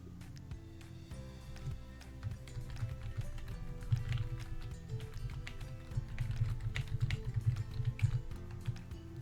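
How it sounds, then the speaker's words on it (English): Computer keyboard typed on steadily with rapid, irregular clicking keystrokes, close by, under a low background drone with no talk. "Sorry if you can hear my keyboard tapping away."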